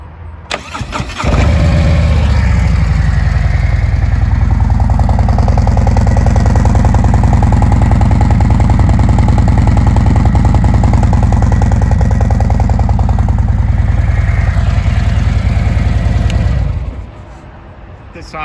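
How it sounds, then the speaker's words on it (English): A 2024 Harley-Davidson Road Glide in Whiskey Fire with 50 caliber exhaust fires up close by, then settles into a loud, deep, steady rumbling idle for about fifteen seconds before shutting off. "the midnight chrome tab 50 caliber exhaust, which I'm gonna actually start up here so you can hear them."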